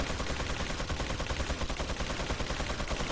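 Rapid, continuous gunfire from the Resident Evil 4 video game fills the whole stretch, dense and loud with steady bursts and no pauses.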